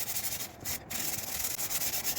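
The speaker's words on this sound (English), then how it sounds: "Sanding with the grain." Steady, close abrasive rubbing of a power sander with a foam pad working with the grain across a wooden guitar body, a continuous gritty hiss with slight pulsing strokes and no speech.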